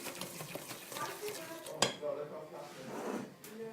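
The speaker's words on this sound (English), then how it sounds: "Get a wooden spoon and give that a good mix." A wooden spoon works through thick cookie dough in a bowl, making soft scraping, stirring sounds close by, with one sharp knock of the spoon against the bowl partway through.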